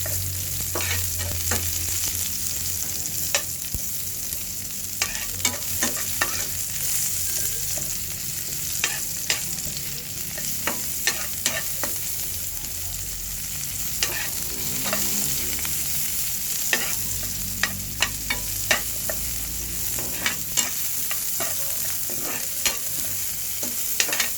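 Garlic and onion sautéing in a pan for ginisang ampalaya: a steady, even sizzle runs throughout, punctuated by scattered scraping and tapping of a utensil stirring.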